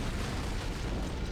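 An antimatter charge blast aboard a ship in Halo CE gives a dense, sustained roaring rumble that fills the whole moment, steady and loud with no pause.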